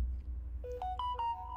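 A mobile phone rings with a repeating electronic melody of bright tones, starting partway through over low background rumble; no one speaks while it plays.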